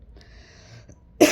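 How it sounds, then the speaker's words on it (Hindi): One short, harsh cough bursts out at the very end, close and fairly loud, after a quiet stretch with only a faint thin tone. "दोस्तों खांसी बहुत बुरी हो रही है"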